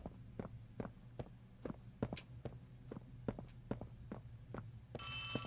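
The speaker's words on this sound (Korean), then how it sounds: "어, 전화가 오는구나." Telephone ringing in the horror video game Poppy Playtime Chapter 3: a steady run of low, thudding heartbeat-like pulses, then a bright electronic ring starts abruptly near the end and holds, fairly loud, with no voices.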